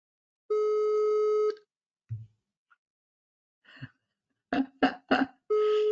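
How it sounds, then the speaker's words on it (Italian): A phone call rings twice in steady electronic tones, each tone about a second long. Between the two rings come short, bumpy bursts of sound that may be a cough or a throat-clearing. "Ecco, sta squillando."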